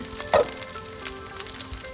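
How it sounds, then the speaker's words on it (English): Food sizzles steadily in hot oil, a soft continuous crackle with a brief louder pop near the start. "So I'm slowly frying it."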